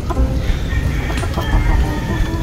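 Silky chickens cluck and murmur in their cage, a steady close chorus of soft bird calls over low rumbling background noise.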